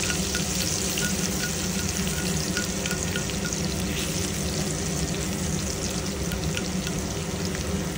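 Garlic fries in a pan before onion and tomato go in, giving a continuous, close, even sizzle and crackle with no voices.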